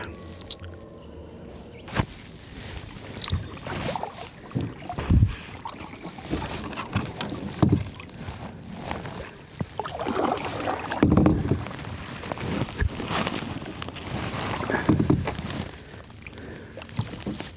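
Paddling a kayak through shallow water over carp, with irregular close splashes and drips of the paddle and hull over a steady wash of water and wind noise, no talk.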